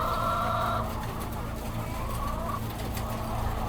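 Egg-laying hens cluck and murmur together over a constant mechanical hum, their calls blending into a crowded indoor din.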